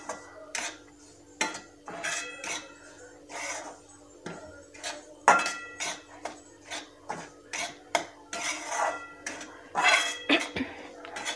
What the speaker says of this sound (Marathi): याप्रमाणे मी छान रवा परतवून घेत आहे।